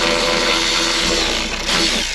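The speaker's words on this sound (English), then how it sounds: "Having an electric ratchet just makes things a whole lot faster" An electric ratchet whirs steadily and loudly while backing out bolts on the driver's side door speaker of a 2019 Ford F150, with a slight change in pitch partway through and no voices.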